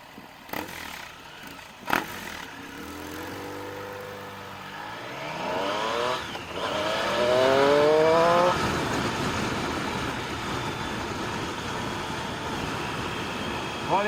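A KTM Duke 390 single-cylinder motorcycle engine rolls along at low rpm in fifth gear with a steady hum. Partway through, its note climbs in pitch with a rising rev, all over constant wind and road rush.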